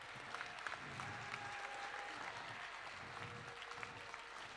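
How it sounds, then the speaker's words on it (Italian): A crowd at a civic virtue award ceremony applauds steadily and warmly, a dense even wash of clapping with some cheering mixed in, filling the whole stretch without a break. "Bello, bello quando questo tifo così caloroso."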